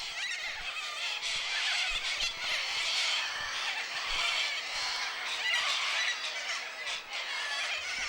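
A flock of cockatoos screeches continuously in harsh, overlapping shrieks, fairly near and dense, with no pauses across the whole stretch.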